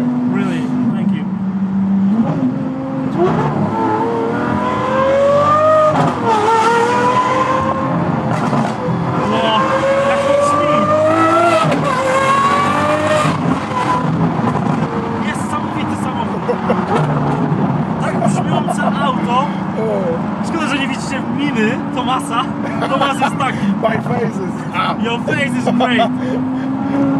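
A Lamborghini Aventador SVJ revs and accelerates loudly, its engine note rising and falling in sweeping pitch runs with tire squeal, while people talk excitedly over it.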